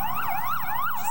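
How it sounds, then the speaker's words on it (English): An FDNY ambulance siren wails up First Avenue in New York, a continuous rising and falling tone that is steady and fairly loud in the street, with no talk. "here's one now with lights and signals blaring up First Avenue"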